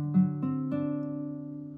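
A single acoustic guitar chord strummed once, its notes rolling in quickly and then ringing out steadily as it slowly decays.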